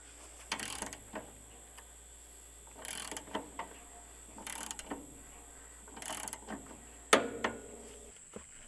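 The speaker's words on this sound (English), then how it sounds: "I always rotate the blade by hand several times to make sure that blade stays on in the middle." Blade of a Woodland Mills portable sawmill turned slowly by hand, giving repeated ratcheting, clattering mechanical bursts about every second and a half, close and moderately loud over a steady background hum.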